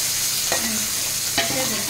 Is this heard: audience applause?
no